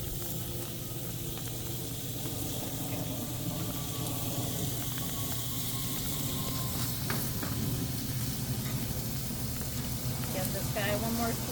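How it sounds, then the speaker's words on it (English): Bacon-wrapped shrimp sizzle in a hot pan, a steady crackling hiss under a cook's talking, with occasional pops and light clatter. "If you like your bacon a little bit darker, continue to cook."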